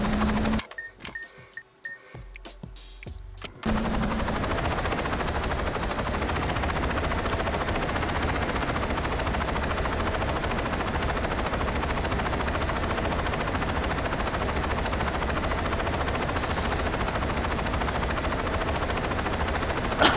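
Steady helicopter rotor drone with rapid machine-gun fire in the video game Saints Row 2, loud and continuous for most of the stretch after a brief choppy opening, no voices.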